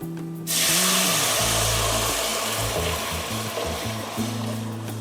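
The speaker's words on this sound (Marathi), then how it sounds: "तूप गरम झालं की थोडंसं जिरं आपण टाकू" Cumin seeds dropped into hot ghee for tempering a waghati soup, bursting into a sudden loud sizzle after a moment of quiet and then hissing steadily over a low hum.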